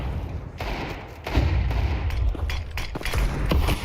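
Desert Eagle pistol shots in a Counter-Strike 2 match at a major esports tournament: several sharp, loud reports that land irregularly, layered over busy in-game background noise.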